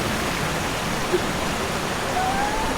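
A small river flows near a waterfall, a steady, even wash of rushing water that carries on unbroken throughout, with no voices.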